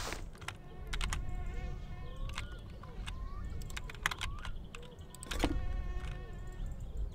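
Insect-like buzzing of a mosquito in the game My Summer Car, a thin whine that drifts in and out over a steady low background hum, with scattered clicks and brief knocks throughout.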